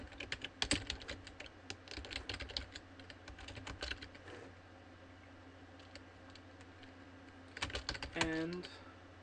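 Quick bursts of computer keyboard typing in two clusters, close and crisp, with a quiet pause between them and a brief voice near the end.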